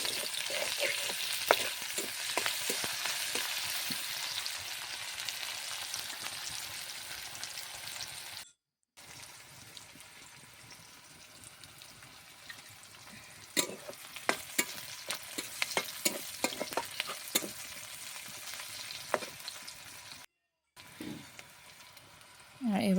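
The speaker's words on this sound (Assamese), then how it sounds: "পিঁয়াজখিনি অলপ ভাজি ল'ম" Onions fry in hot oil in a pan with ginger and garlic to follow, a steady loud sizzle broken by repeated scraping stirs, with brief pauses and a little speech.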